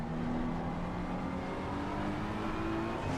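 GT3 race cars lapping the Hungaroring circuit on wet curbs, engines holding a steady, droning mid-revs note with layered harmonics, continuous and fairly close throughout.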